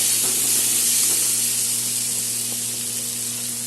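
Vegetables fry in a pan as spices are added, giving a steady, close hiss and sizzle that fades slightly toward the end, with no talking.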